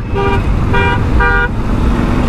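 A car coming the wrong way along a road in Uttar Pradesh, with three loud, close horn toots sounding over steady engine and traffic rumble.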